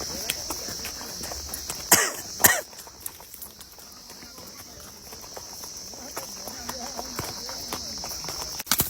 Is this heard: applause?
no